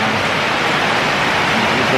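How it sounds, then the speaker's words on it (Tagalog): Heavy rain falls steadily in a garden beside a guest house during a downpour, a loud, dense hiss that holds constant throughout with no pauses. "lumalakas na naman ang ulan"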